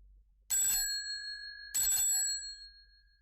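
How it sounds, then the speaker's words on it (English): A doorbell at Sherlock Holmes's house rings twice, each a bright, sustained metallic ring about a second apart, clear and close in an otherwise quiet room with no talking. "Then suddenly she ran across the road and rang Holmes's doorbell."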